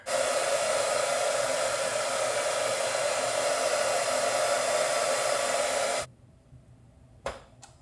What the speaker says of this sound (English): let me get the hairdryer